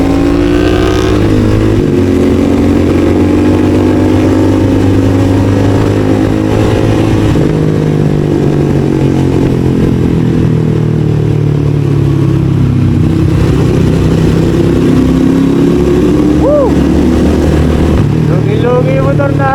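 A CF Moto 450 motorcycle is ridden on the road. Its engine drones loudly and steadily, with pitch rising and falling through gear changes and throttle, mixed with wind rush.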